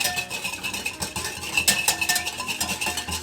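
A whisk stirs a jaggery mixture for panakam in a bowl, giving a steady run of quick metallic scrapes and clinks at close range, with no talking.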